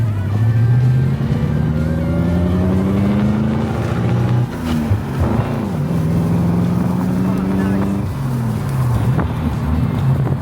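Engine of a classic Daimler Dart held at a steady 2,500 RPM while driving, a loud continuous drone with rising and falling harmonic tones as it shifts, plus wind noise and a voice talking over it.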